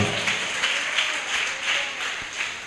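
A church congregation at Sunday worship applauds steadily, many hands clapping together in a dense, sustained patter with a few louder accents, filling the hall without talk.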